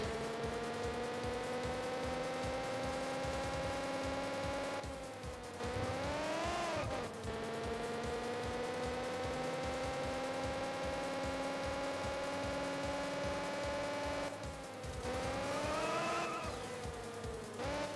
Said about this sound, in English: This is a very bad engine sound.